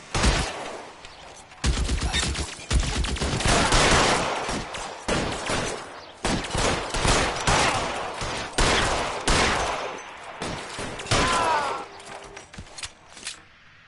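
A video game shootout bursts into gunfire, rapid volleys and single shots crackling loudly in dense clusters with short pauses between them.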